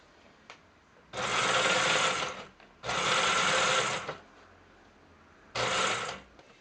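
A sewing machine stitches fabric panels for a cloth shoe organizer, running in three loud bursts of about one to one and a half seconds each with short quiet pauses between, no talking.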